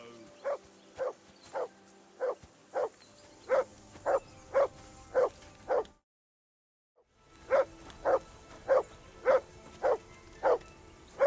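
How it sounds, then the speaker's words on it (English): A dog barks in Kingdom Come: Deliverance II, a steady string of evenly spaced, fairly close barks, broken by a brief silence before the same rhythmic barking resumes. "Call that dog to heel!"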